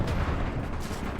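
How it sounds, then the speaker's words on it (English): Tank cannon fire in a Desert Storm-era first-person tank warfare game mod, a dense, continuous roar of heavy gunfire and battle rumble, loud and sustained with no clear gaps between blasts. "Let's go ahead and continue to fire at enemy tanks."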